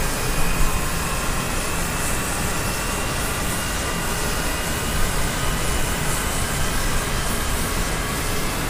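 A Lockheed TF-104G jet engine spinning up at Gioia del Colle airbase roars as a loud, dense, steady whine and rush, with other jets of a three-ship flight nearby.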